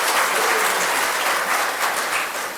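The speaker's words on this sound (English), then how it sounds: "I think we should give a clap" Sustained audience applause at an awards oration honoring a Padma Shri recipient, a dense, steady wash of many hands clapping throughout, fairly loud and even, easing slightly toward the end.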